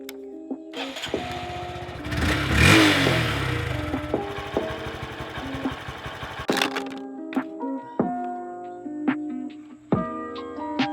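A Honda Grom motorcycle engine starts, runs roughly with a loud rev, then settles into choppy idle blips and short throttle pulses, heard close with no talking.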